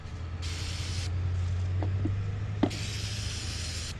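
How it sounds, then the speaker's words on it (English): Throttle body air intake cleaner sprays from a can on a 2007 Pontiac G6 2.4L Ecotec, in two hissing bursts of about half a second and over a second, separated by faint clicks, over a low idle hum. "I'm going to spray this one. Again, throttle body air intake cleaner."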